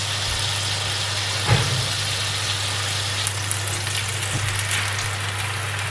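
Bacon fries in a pan with olive oil, brown sugar and butter, giving a steady close sizzle under a constant low hum, with a few soft clinks and pops.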